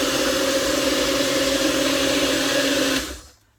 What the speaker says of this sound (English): And I'm going to blend it for a couple of seconds.